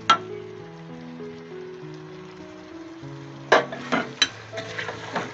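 Capsicum keema with garam masala is stirred in a pan over a low flame. Low background music plays at first, then a spoon gives several close scraping and clinking strokes over a soft sizzle.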